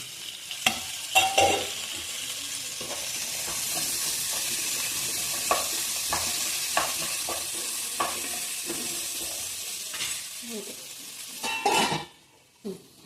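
Ginger and garlic sizzle steadily in a hot pan for veg biryani, with a spoon stirring and scraping against the metal in irregular clinks up close throughout.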